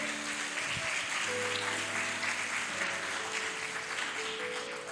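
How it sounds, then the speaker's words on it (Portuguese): A church congregation claps steadily throughout while sustained keyboard tones hold underneath, the applause dense and even at moderate distance. "Aplauda com fé o Senhor"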